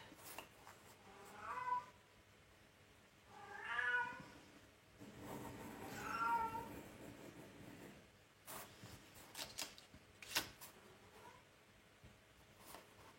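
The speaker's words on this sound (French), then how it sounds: "Donc mon chat miaule" A cat meows three times, each a drawn-out, fairly faint cry spaced a couple of seconds apart, followed by soft paper and handling sounds indoors.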